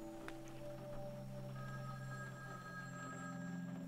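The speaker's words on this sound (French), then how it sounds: "le téléphone sonnait vraiment" Telephone ringing in a house, a faint steady electronic ring tone repeating continuously through the moment, with no talk over it.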